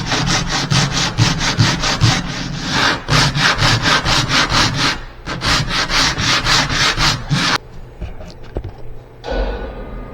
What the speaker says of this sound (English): I'm going to use the same piece of sandpaper I used the other day, 60 grit, just to knock down the high spots here.